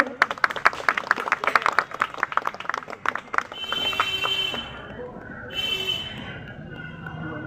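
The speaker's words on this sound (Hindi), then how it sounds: "ताली से स्वागत करेंगे।" Group of colleagues clapping to welcome a retiring postal worker at a post office farewell, a burst of brisk uneven applause for about three seconds that gives way to a ringing electronic tone and murmuring voices.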